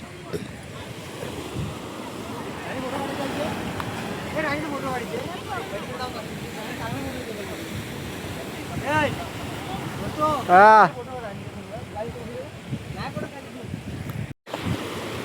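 Sea waves wash onto the shore in a steady rushing surf mixed with wind buffeting the microphone, while several people chat nearby throughout.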